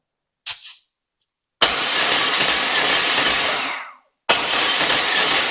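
A used car engine cranking over on the starter during a compression test, a steady close whirring chug lasting a few seconds, then a short pause before cranking resumes; a few brief clicks come before it.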